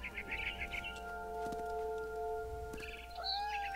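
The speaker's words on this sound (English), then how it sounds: "Then I heard chirping outside my window. It was a barn swallow going back to her nest." A barn swallow chirps in What Remains of Edith Finch, giving short, faint, high chirps in small clusters at the start and end, set against a quiet sustained musical tone, with no talking.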